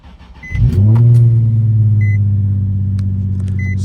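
A Nissan 350Z with a six-speed gearbox cold-starts with a brief cranking whir, then catches and settles into a loud, steady, rumbling idle, accompanied by a few faint electronic beeps.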